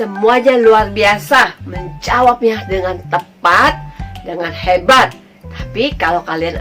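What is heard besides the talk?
None of the usual background noises is heard.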